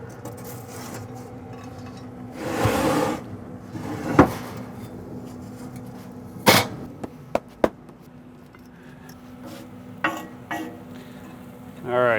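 A smoker door creaks open with a few wooden clunks and knocks, followed by scattered light taps in an otherwise quiet space.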